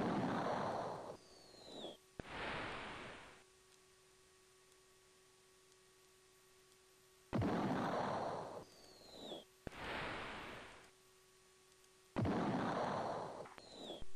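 A battleship being sunk in the Amiga game Battleships, a series of loud bursts of noisy explosion rising and fading, separated by quiet gaps with a steady electronic hum underneath.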